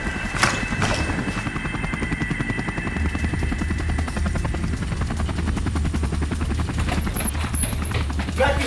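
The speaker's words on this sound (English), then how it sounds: "Helicopters! Helicopters!" A helicopter's rotor thumps in a fast, steady chop close overhead, loud and continuous with a whining engine.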